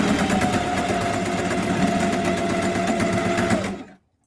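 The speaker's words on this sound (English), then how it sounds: "I'm going to come back and sew the bottom. And I'm going to back stitch." Sewing machine stitching a fabric book cover with a zipper, running in one steady, loud, unbroken buzz of rapid stitches before stopping abruptly near the end.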